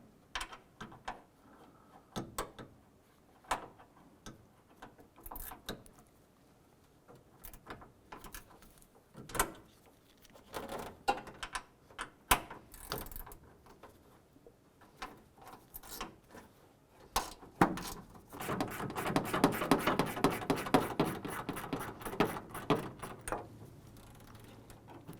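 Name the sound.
removing 10mm bolts with a ratchet on a Chevrolet Colorado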